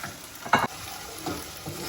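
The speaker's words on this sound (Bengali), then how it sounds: "পেঁয়াজটা ভালোভাবে ভাজা হয়ে গেছে একটুখানি তেল ছেড়ে দিয়েছে আমি একটুখানি এবারে নারকলের দুধটা দিয়ে দিলাম" Onions fry in oil in a pan with coconut milk and poppy paste, a soft steady sizzle broken by a few louder scraping stirs of a spoon, close and fairly quiet.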